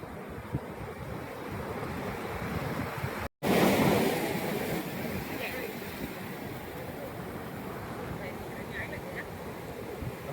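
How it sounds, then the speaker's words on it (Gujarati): Large ocean waves break and wash up steadily on Nagoa Beach in Diu, a continuous loud roar of surf with wind buffeting the microphone and a brief dropout midway. "બહુ મોટા મોટા મોજા આવે છે મિત્રો"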